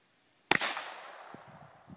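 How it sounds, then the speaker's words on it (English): A .22 long rifle pistol fires a single sharp shot at a homemade ballistic mask outdoors, a sudden crack followed by a short fading echo and a faint thump or two afterward. "MC Scoot shooting it with a .22 long rifle pistol."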